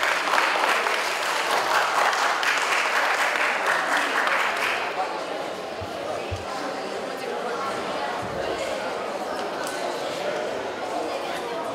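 Applause at a freestyle wrestling tournament in Cimislia, steady loud clapping from the crowd that fades a little midway and continues as a dense wash, with occasional thumps and voices under it.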